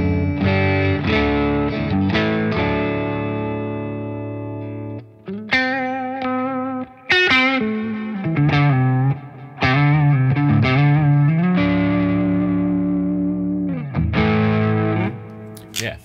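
Electric guitar played through a Bogner amp on a pushed clean tone: loud, sustained chords and single-note phrases with slight breakup and chorus-like shimmer, ringing continuously with short gaps, close and without speech.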